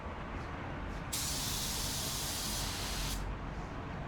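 A paint spray gun lays down metallic paint at low air pressure, producing a steady close hiss that grows brighter and stronger for about two seconds in the middle before easing back.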